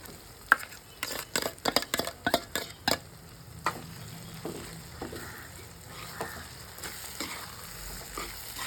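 A spoon scrapes and clatters in quick sharp bursts as a shallot, ginger and coconut paste is stirred into a frying curry, then settles to a softer steady sizzle with occasional knocks against the pan.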